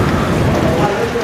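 Heavy rain pouring during a thunderstorm on a mountain road trip in Uttarakhand, a dense loud continuous hiss filling the whole moment.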